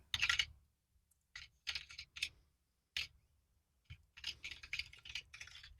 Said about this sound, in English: He's ignoring you and he's just typing.